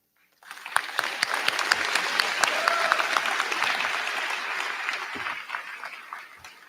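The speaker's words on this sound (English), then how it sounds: "let's give a big round of applause to our teachers, family, friends, and fellow graduates who stood by us every step of the way" A big round of applause at a school graduation ceremony begins abruptly, with distinct sharp claps building into dense clapping, and faint voices beneath that thin out as the clapping fades.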